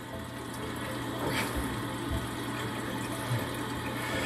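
A Briggs Vacuity 4400 series toilet tank refills after its seals are replaced, giving a steady, close hiss of running water with a low hum and a few faint knocks.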